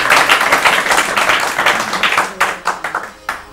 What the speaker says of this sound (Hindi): ताली बजाइए इनके